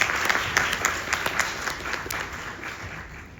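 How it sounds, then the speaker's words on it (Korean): Applause from a concert audience at a K-pop live talk show, a steady wash of clapping that fades toward the end, with no voices. "박수 한번 치고요."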